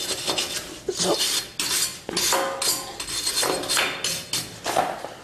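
Rhythmic scrubbing strokes rub corrosion off a car's wheel hub surface where the brake rotor mounts, close and repeated in regular back-and-forth bursts.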